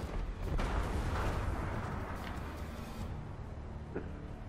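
A heavy gunshot booms in the Ghost Recon Breakpoint video game, a loud blast that rolls into a rumbling echo and then a fainter crack later, with no voices.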